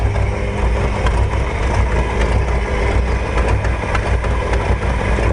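A 1969 Ford F100 long-bed pickup with a 360 cubic-inch V8 and automatic transmission idles steadily, a loud, even low rumble with no revving and no voices.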